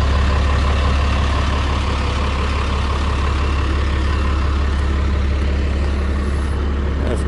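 A 2015 RAM 3500 Longhorn crew cab pickup's engine runs at a steady, low rumbling idle close by, loud and continuous with no talking.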